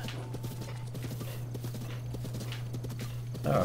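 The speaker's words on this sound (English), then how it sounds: "There are lots of horses around." Horse hooves clip-clopping across terrain in The Legend of Zelda: Breath of the Wild, a steady rhythmic trot running throughout under a constant game-audio hum, with a brief louder burst near the end.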